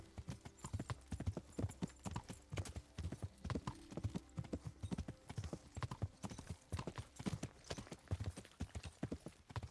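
Horse hooves clip-clopping steadily at a brisk, even rhythm in the medieval video game Kingdom Come: Deliverance, close and continuous throughout, with faint background sounds.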